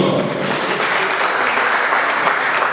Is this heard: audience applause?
yes